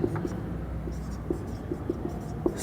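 Pen or marker scratching out notes during an anatomy lesson on the larynx, with short, soft, irregular strokes and taps close by at low volume over a faint room hum, and no talking.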